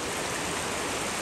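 Fast, high creek water rushes loudly and steadily in Alabama woodland, a dense continuous roar filling the whole clip with no voice heard over it.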